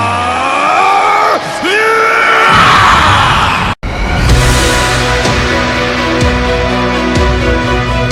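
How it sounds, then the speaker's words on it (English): Vegeta screams as he powers up, a loud, sustained yell layered with roaring energy effects and a sharp cut, followed by a dense, continuous rumbling blast that fills the rest. "Vegeta, without wasting any time, went and he screamed."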